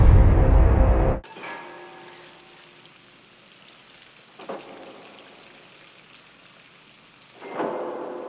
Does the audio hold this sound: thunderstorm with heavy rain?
yes